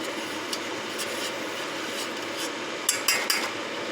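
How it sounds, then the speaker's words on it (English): A spoon stirs old-fashioned oats in a pot, a soft steady scraping under a constant background hiss, with a few sharper clinks against the pot near the end. "Stir, stir, stir."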